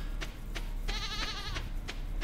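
A goat bleats once in a farming video game, a wavering, drawn-out cry in the middle of the moment, set against a steady background bed of game ambience and with no talking.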